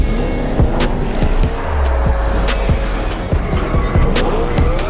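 A brand new Porsche Panamera Turbo S drives with a loud, close engine and road roar, low rumble plus sharp clicks and tire noise running continuously throughout.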